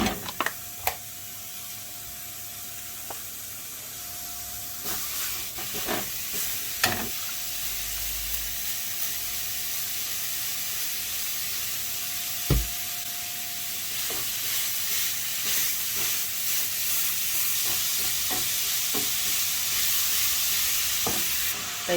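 Mince browning in a pan for Slimming World loaded chilli wedges, a steady soft sizzle and hiss broken by the scrape and clack of a utensil stirring and breaking up lumps, close and continuous.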